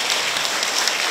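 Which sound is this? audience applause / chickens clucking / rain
audience applause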